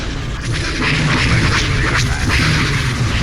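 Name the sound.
starship weapons fire in video game Star Wars Empire at War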